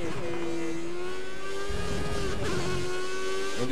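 Formula 1 car engine in the F1 2014 racing game, a steady high-pitched whine from the cockpit that climbs and shifts through gears, loud and continuous with no talk.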